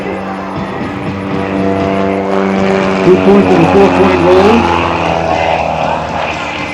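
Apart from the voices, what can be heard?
aerobatic propeller airplane engine during airshow low pass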